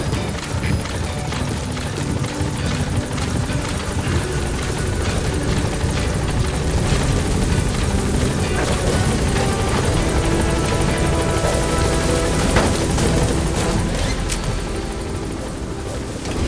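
In the Metal Gear Solid V video game, the Pequod helicopter sounds its loud, steady rotor chop close by throughout as it lands at the LZ and lifts off again.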